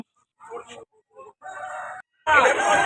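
A fighting rooster at a Sunday poultry market in Vijayawada crows close and loud, a few short broken notes followed by one long harsh cock-a-doodle call.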